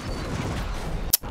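Gunfire in the video game Max Payne during a shotgun fight in a factory, a dense low rumble of shots capped by one sharp, loud blast near the end.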